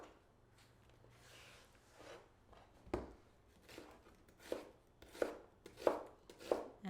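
A knife thinly slices a carrot on a cutting board in quiet, close knocks that start sparse and grow into a quicker, crisper rhythm of about a dozen strokes, with no voices.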